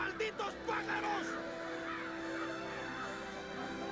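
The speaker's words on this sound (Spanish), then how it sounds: "¡Miren los malditos pájaros!" Crows cawing in the 2005 War of the Worlds film, several harsh calls early on over a low, steady background rumble that continues after they fade.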